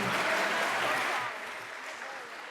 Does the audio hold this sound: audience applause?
yes